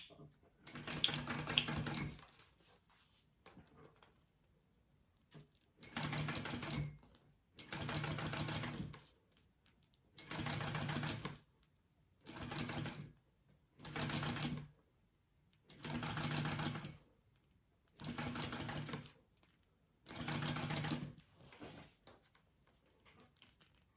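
Sewing machine basting a folded vinyl strip for a clutch bag, running in about nine separate bursts of fast mechanical stitching, each a few seconds long with quiet pauses between, close and clear.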